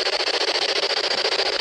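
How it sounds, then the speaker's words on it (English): Spirit box radio scanning through white noise during a ghost hunt at Ducketts Grove, a loud, close hiss chopped into fast, regular pulses as it sweeps stations. "It's not a train, it's the white noise of the spirit box."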